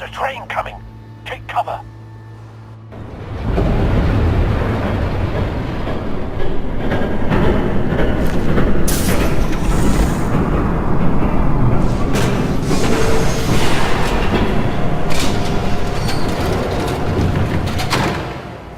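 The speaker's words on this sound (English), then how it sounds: "There's a train coming. Take cover." A train rumbles past in Batman: The Telltale Series, a loud, sustained roar of rail noise with clattering and occasional metallic squeals that builds and stays close for many seconds after a brief quieter lead-in.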